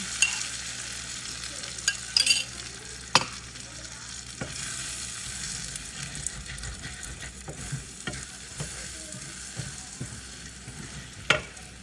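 Bitter gourd and egg frying in a pan, a steady sizzle running throughout with occasional sharp clicks and scrapes from stirring, close and moderately loud, no talking.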